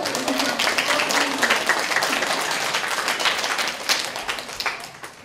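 A crowd claps steadily and loudly for several seconds, dense applause that thins slightly toward the end.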